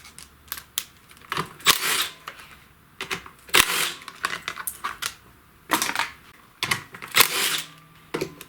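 Tools clicking and ratcheting as a 10mm socket takes the gas tank bolts off a Briggs & Stratton snowblower engine, an irregular run of sharp close clacks, rattles and scrapes.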